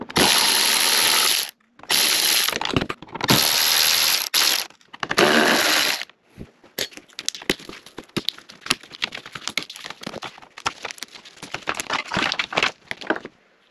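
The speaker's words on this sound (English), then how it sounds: "We're gonna take off these T30s back here." An impact or power driver spins T30 Torx bolts out of an Audi Q5 in several loud whirring bursts, then a long run of quick ratcheting clicks and rattles as the bolts are backed out by hand.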